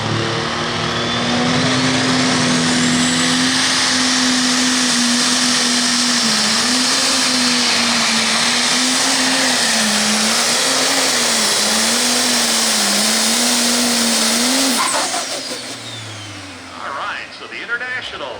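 A Revelation Pro pulling tractor roars at full power at a 10,000 lb Pro Pulling League tractor pull in Hillsboro, Wisconsin, a loud, sustained engine howl with wavering pitch that cuts off sharply near the end.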